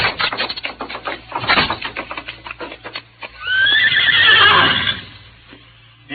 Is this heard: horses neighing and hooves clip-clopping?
yes